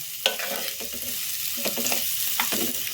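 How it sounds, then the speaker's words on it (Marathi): Sliced onion is tossed briefly in a pan for a ridge gourd vegetable dish, giving a close, busy sizzle with repeated spoon scrapes and stirring knocks throughout and no voices. "कांदा सुद्धा आपल्याला लाल करायचा नाही, थोडासा परतून घ्यायचा"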